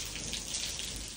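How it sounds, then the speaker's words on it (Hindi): Rain falling in Batakundi, a steady close patter of raindrops hissing on surfaces, even and continuous with no voices. "यहाँ पे बाटा कुंडी में आए हाय हाय चेक करें बारिश हो रही है।"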